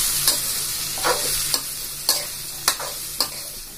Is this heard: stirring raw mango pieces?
yes